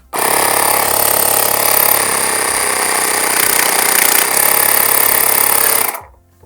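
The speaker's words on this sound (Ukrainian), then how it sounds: "Вмикається компресор одною кнопкою." An Aspiring Storm 1 portable car air compressor runs with a loud, steady mechanical rattle and buzz for about six seconds, then stops abruptly.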